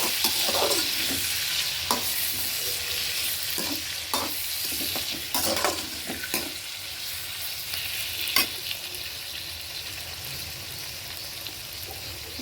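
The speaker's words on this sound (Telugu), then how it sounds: "వంకాయలు ఆల్మోస్ట్ ఫ్రై అయిపోయినాయి" Eggplants frying in a pan for a vangaya talimpu dish, a steady sizzling hiss throughout with scattered scraping stirring knocks, close and continuous with no talking.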